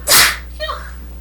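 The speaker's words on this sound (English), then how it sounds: "I have to sneeze" A single loud, close sneeze bursts out, followed by a faint breathy sound as it trails off into quiet.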